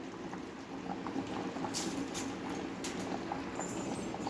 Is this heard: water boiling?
yes